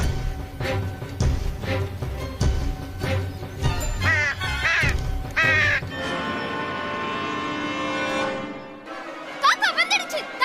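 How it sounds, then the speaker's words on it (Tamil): Crow cawing in an animated children's story, with repeated harsh calls over a busy music bed. A sustained tone and quick higher cries follow. "காக்கா வந்துடுச்சு, தாக்குங்க."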